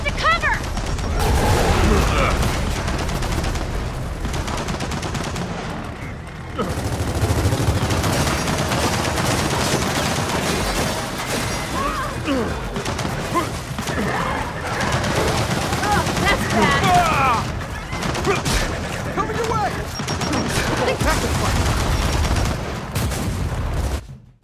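Turret machine gun fire in the Gears of War 4 video game comes as loud, dense bursts of rapid automatic shots that keep going through most of the stretch, with a brief lull, while voices shout over the shooting.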